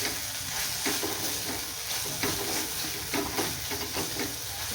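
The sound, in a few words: chili powder masala stirred and frying in oil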